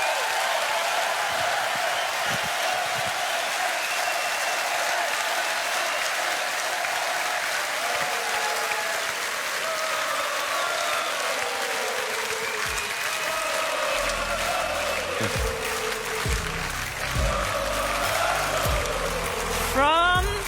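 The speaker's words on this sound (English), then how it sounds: "I want you to give them a warm applause, Copenhagen" A large crowd in Copenhagen applauds riders at the Tour de France 2022 team presentation, a steady roar of clapping and cheering with an announcer's voice over it throughout.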